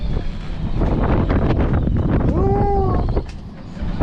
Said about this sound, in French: Ça fait peur d'entendre le vent et tout ça avec des rafales jusqu'à 30 nœuds.